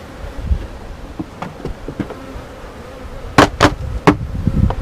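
Honeybees buzzing around an open hive with a single deep brood chamber, a faint continuous hum near the listener broken by several sharp knocks and clicks from handling the frames.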